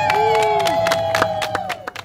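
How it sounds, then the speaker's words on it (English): County commissioners applaud an enhancement to a historic museum, a short burst of close, lively hand clapping from a small group with a few voices mixed in. "County commissioners applaud an enhancement to the historic museum"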